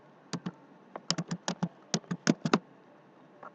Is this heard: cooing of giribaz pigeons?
no